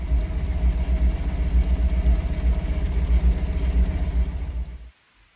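A 1970s-era Alfa Romeo Alfasud engine runs steadily after an oil and filter change, a close, loud low rumble with a slight rev flutter, then cuts off abruptly near the end.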